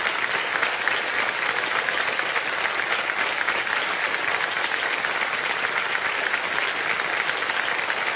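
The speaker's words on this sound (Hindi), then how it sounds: "ताली बज जाए इनके लिए" Studio audience applause on a televised quiz show, steady and dense, filling the room evenly throughout with no talk over it.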